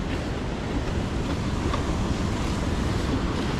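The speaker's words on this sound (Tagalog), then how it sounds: "Grabe naman yung alon na yan." Waves slap against a small boat at sea, a steady low rumbling wash with wind buffeting the microphone, continuous and fairly loud with no speech.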